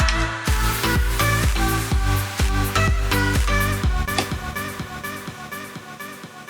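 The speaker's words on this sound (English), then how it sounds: "The ducking echo, that's actually my arm echo out down here" A music track in VirtualDJ 2023 with a ducking echo effect, its punchy rhythmic beats repeating steadily before thinning and fading into echoing repeats toward the end.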